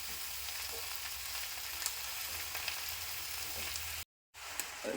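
Leafy greens curry cooks in a pan, a soft even sizzle with faint scrapes of stirring throughout, broken by a brief gap of silence near the end.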